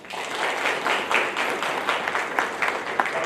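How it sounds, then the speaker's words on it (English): A dense, continuous round of applause from an audience at a school event, many hands clapping together at even loudness throughout, with no talk over it. "Please give him a round of applause."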